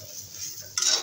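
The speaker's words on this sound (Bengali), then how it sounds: "নিউট্রেলাগুলো লাল লাল করে ভেজে নিলাম" Nutrela soya chunks frying in a pan and stirred, a steady soft sizzle with a louder burst of scraping and crackling near the end.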